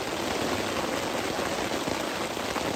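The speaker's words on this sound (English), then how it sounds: "We are under the bug shelter and it is pouring rain." Pouring rain drums on a bug shelter during a river trip in a thunderstorm, a dense, steady patter heard from underneath, continuous and even with no voices.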